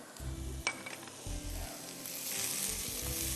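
Ginger and garlic dropped into a pot of sliced onion and capsicum, giving a faint, steady sizzle that swells slightly toward the end, with a soft low hum and a light utensil tap early on.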